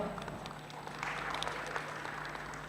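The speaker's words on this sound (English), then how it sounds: "Please, a round of applause for Carol." An audience at a film and TV market event gives a round of applause, moderate scattered clapping that swells after the first second and carries on steadily over a low hum.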